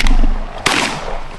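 Loud shotgun blasts during a duck hunt in Canada, a close sharp report followed by another shot or two in quick succession outdoors.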